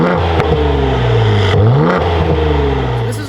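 A Ford Explorer ST fitted with aftermarket Valvetronic Designs universal mufflers revs up and drops back several times, its exhaust note rising and falling with a throaty, close-up growl.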